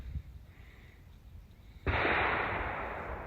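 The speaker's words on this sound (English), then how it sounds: "Another gunshot." A distant gunshot sounds outdoors during bow season, one sharp crack that rings out into a long, broad noisy tail, faint and far away over background hiss.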